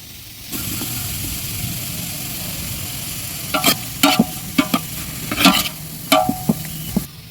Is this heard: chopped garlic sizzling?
yes